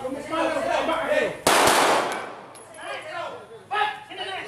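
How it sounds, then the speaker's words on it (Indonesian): Police fire a warning shot while breaking up a teenage brawl by a river in Bandar Lampung: a single sharp, loud crack cuts through steady news narration. "Polisi meletuskan tembakan peringatan berkali-kali agar mereka menyerahkan diri."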